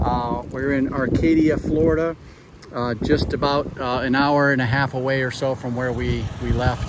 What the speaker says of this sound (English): So sorry for the wind. It is a little windy here where we are.